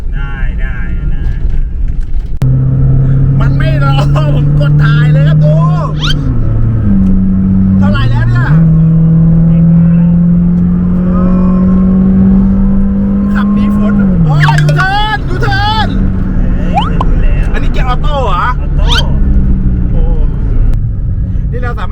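A Honda Civic 3-door race car idles and revs with a steady engine drone that rises and falls between blips. It sits close and loud throughout, with people chatting over it.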